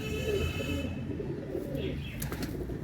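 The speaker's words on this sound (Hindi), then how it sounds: "ये चेक करें, बहुत अच्छा कबूतर है माशाल्लाह से" A Chinese teddy pigeon coos softly in a rooftop breeding setup, low and close with faint background noise.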